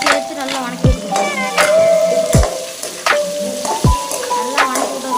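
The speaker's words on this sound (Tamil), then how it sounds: "ஸோ இதை அப்படியே சேர்த்து நல்லா வதக்கி விட்டுக்கணும்" Ginger garlic paste sautés in a hot pan with a steady close sizzle and frying crackle, broken by a few scrapes and clanks of a spoon stirring, with no voice.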